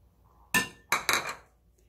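A spoon clinks against a bowl while pork chops are mixed in a ketchup marinade: three sharp metallic taps, one single and then two close together, in an otherwise quiet kitchen.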